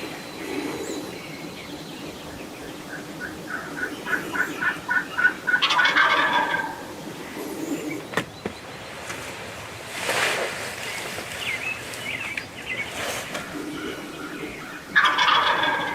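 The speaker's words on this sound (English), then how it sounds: "There is just nothing better than multiple hen sounds." Wild eastern turkeys out in the open during spring season, several hen calls and gobbles rising and fading at a distance against a steady outdoor background hush, with no talk.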